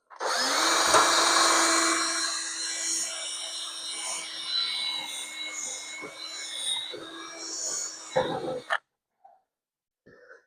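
A power drill bores out rivets on the frame rail of a 1971 Dodge Challenger barn find, a loud, sustained high whine for about eight seconds before cutting off abruptly, leaving near silence with a faint click.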